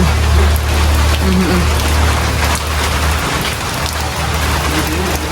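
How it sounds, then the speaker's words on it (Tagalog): Steady, dense rain pours down with a constant hiss, loud and close, with a low rumble underneath. "Tamang-tama po at naulan."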